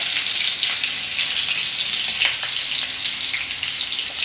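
Finely chopped onion fries in hot oil with cumin and green chillies, a close, steady, bubbling sizzle with light crackles throughout and no talking.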